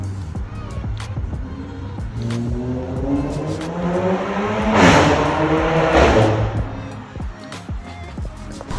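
A Volkswagen Scirocco with a full custom exhaust and large tips revving, loud and throaty, pitch rising and falling as it builds to a peak and settles back.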